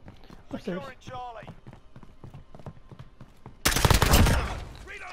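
Call of Duty gunfire breaks out in a loud, dense burst of rapid shots near the end, following a stretch of excited talking and laughter.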